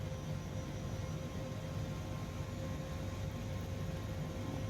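An Airbus H160 helicopter hovers in Microsoft Flight Simulator over Papua New Guinea, a steady, dense broadband rotor and turbine roar with a faint tonal whine, unbroken and constant throughout.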